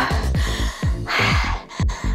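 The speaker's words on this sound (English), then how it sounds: "I'm breathing hard." After a high-impact weights workout, someone breathes heavily and close up, with a quick run of loud, rasping gasping breaths in and out.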